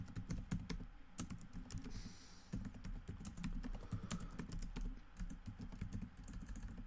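Steady, rapid typing on a computer keyboard, close and fairly quiet, with irregular clusters of key clicks throughout.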